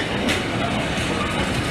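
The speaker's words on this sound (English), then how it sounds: "That train is the 1042 1 kilo 32 London Liverpool Street to Southend Victoria." A London Liverpool Street to Southend Victoria passenger train rumbles past close by on station tracks, a loud, steady roar of wheels and carriages.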